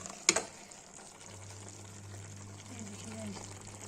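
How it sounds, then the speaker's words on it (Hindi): Kashmiri lotus stem (nadru) with chilli, turmeric and tomato sautés in a pan with a soft, steady sizzle, faint and low after a brief clatter at the start. "ये भूंज रहा है, 15 मिनट भूनेगा"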